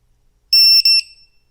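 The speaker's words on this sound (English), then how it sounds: "that 3 beeps indicates that it's been disarmed" A ViFly Finder Mini lost-model buzzer sounds three short, loud, high-pitched beeps in quick succession, nearly back to back, in an otherwise silent moment.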